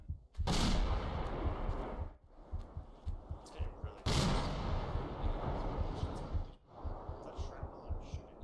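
Heavy mortar rounds and gunfire in a military video game battle, two big loud blasts with long rumbling decay, scattered shots and thuds filling the gaps throughout.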